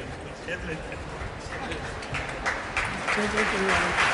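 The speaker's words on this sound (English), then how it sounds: "the devotees with the raised hands who are clapping, they are from Russia" Russian devotees clap with raised hands at a Sai Baba gathering, the clapping building into a dense crowd patter over the stretch while someone talks over it.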